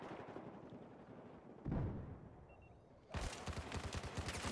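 FAMAS rifle fire in the video game Battlefield 4, a rapid, loud burst of automatic shots after a quieter stretch with a single heavy report, rattling on to the end.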